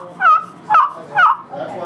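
A turkey call mimics a gobbler, sounding three evenly spaced, loud, close bursts with brief pauses between them.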